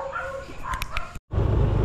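Dogs bark and yip in short bursts at moderate distance, with a person talking nearby.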